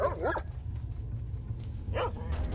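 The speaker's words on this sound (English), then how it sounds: "Oh, wait, is a friendly dog?" A dog in the STALKER video game gives a few sharp, close barks. There is a pair near the start and another near the end, over a low background rumble, with no talk.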